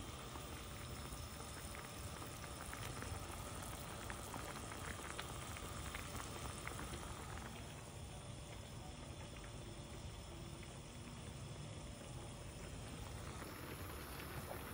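Water boils hard in a pot on the stove for pasta and potatoes, a steady close bubbling hiss and rumble that runs unbroken from start to finish.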